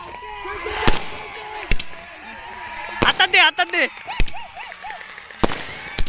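Loud, sharp firecracker pops go off sporadically, some in quick clusters, amid a lively crowd at a cricket final, with people speaking and shouting.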